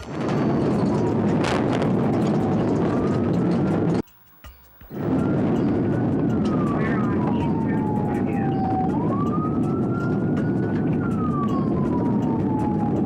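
Police car sirens wail and sweep in pitch during a pursuit, loud and continuous over a dense rumble, cut off by a short break before the siren resumes.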